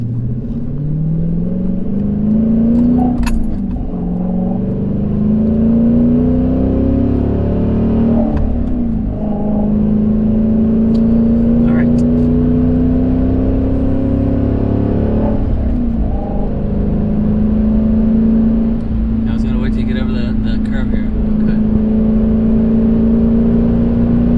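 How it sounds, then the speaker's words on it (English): A 2009 Dodge Challenger SRT8 engine roars steadily and climbs in pitch as it accelerates uphill under load, loud and continuous with occasional gear changes. "Now we're really gonna hear the engine sound good when we go up this hill."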